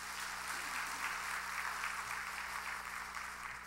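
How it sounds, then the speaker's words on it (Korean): Church congregation applauding during a Sunday worship service, a full, even roar of many hands clapping that holds steady throughout and fades slightly at the close. "박수 한번 보냅시다."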